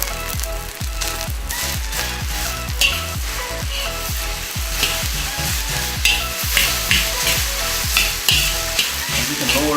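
Rice with SPAM frying in a pan, a steady loud sizzle broken by rhythmic scraping stir strokes roughly every half second throughout, with no talking.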